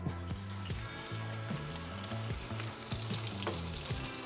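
Bay leaves and black cardamom fry in a mix of butter and oil, giving a steady close sizzle and crackle with soft stirring scrapes repeating roughly every half second, and no voices.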